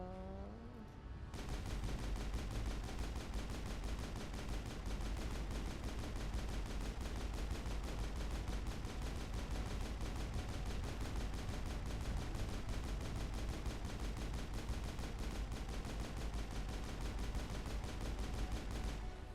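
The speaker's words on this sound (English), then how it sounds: "I don't know if you can hear me over all the gunfire" Dense, relentless rapid gunfire from the video game Mass Effect on Insanity difficulty fills the whole stretch, with overlapping bursts and shots rattling continuously at a loud, steady level after a brief quiet start.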